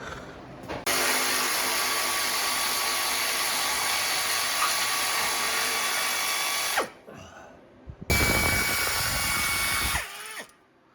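Power tool loosening exhaust bolts on a Polaris RZR 1000XP side-by-side, a loud steady whine running for about six seconds, a brief pause, then a second shorter burst close up.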